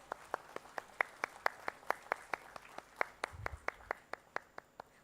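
Slow, steady clapping from an audience at a textile launch event in Bhubaneswar, individual hand claps ringing out in a sparse, even rhythm with room echo and no talk over them.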